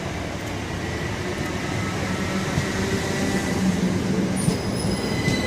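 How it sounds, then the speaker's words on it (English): A delayed Southern passenger train passes on a suburban railway line, with a steady rumble of wheels and carriages and a brief high wheel squeal near the end, fairly close and continuous. "Here's a delayed Southern train."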